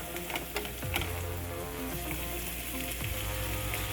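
Scrambled eggs frying in margarine in a pan give a steady close sizzle and crackle, with a few sharp spatula scrapes and clicks against the pan.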